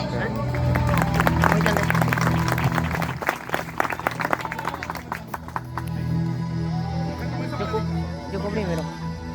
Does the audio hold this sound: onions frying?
no